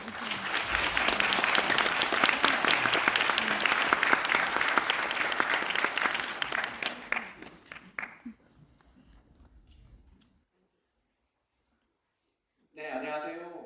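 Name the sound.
audience applause welcoming a lecturer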